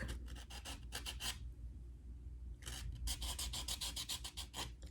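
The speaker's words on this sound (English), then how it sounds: "to buff out that excess" A nail buffer rubs acrylic nails smooth in close, quiet rapid scratchy strokes, with a short pause before the buffing picks up again.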